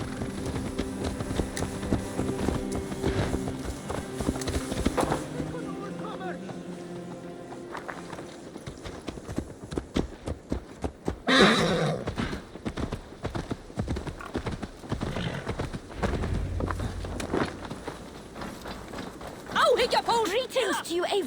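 Hooves clip-clop steadily on the ground with a neigh or two from a horse in Assassin's Creed Valhalla, set under game music, ambience and spoken dialogue.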